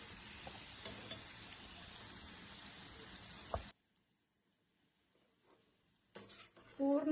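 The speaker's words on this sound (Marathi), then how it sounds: "पूर्ण असं हे सगळं खरपूस भाजेपर्यंत तेलात त्याचं गुणधर्म उतरेपर्यंत तेल तापवत ठेवायचं" Herbs frying in hot oil for homemade ayurvedic hair oil, a close, steady crackling sizzle with occasional stirring scrapes, then a quiet pause before the sizzling and clattering return.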